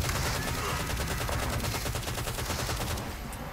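Rapid, dense gunfire from Call of Duty Black Ops 3 Zombies during a boss fight, loud and continuous bursts of automatic shots with voices faintly mixed under the din.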